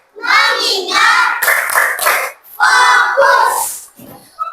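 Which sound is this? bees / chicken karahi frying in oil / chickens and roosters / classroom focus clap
classroom focus clap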